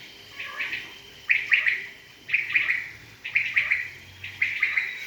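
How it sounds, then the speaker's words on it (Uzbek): Caged quails and canaries call at a teahouse, with short bright chirping bursts repeating roughly once a second in a steady rhythm, close and clear over quiet background. "Bu yoqda bedanalar, kanarejalar"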